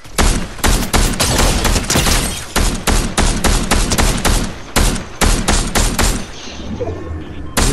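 Rapid gunfire in the video game Fortnite, loud and close, with dense bursts of automatic shots in quick succession that thin out near the end, and no talk.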